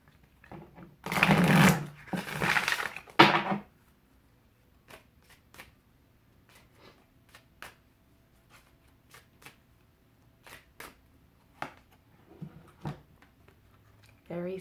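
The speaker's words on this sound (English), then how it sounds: "Oh, moving the cards around" Tarot cards are shuffled in two loud, riffling bursts near the start. Quieter taps and slides follow as the cards are moved around. Someone speaks softly in between.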